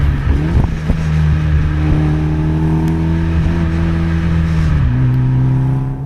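Tuned 2013 Mitsubishi Evo X engine accelerating hard on a road, a loud close revving drone climbing in pitch through the gears, with a shift dip near the end and no voices.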